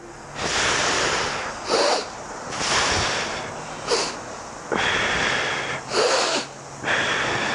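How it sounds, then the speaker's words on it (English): A group of people lying down in a core conditioning workshop breathe deeply and forcefully, with long, loud, airy exhales repeating in a steady rhythm and short pauses between them. "just lying down doing some breaths and holding that while breathing"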